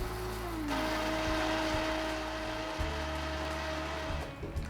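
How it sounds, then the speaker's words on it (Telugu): A kitchen mixer grinder works bottle gourd, rice and fenugreek with salt into a batter, giving a continuous, fairly quiet motor whine with slight shifts in pitch and no talk. "ఆనపకాయ, బియ్యం, మెంతులు మెత్తగా మిక్సీ పట్టుకోవాలి"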